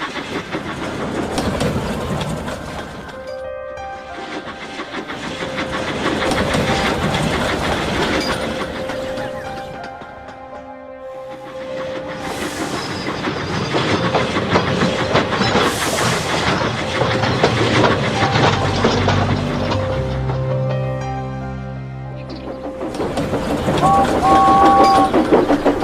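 A train runs along a railway line in misty conditions, a continuous rumbling roll with rhythmic wheel clatter that swells and eases, plus brief higher squeals and tonal notes drifting over the steady noise.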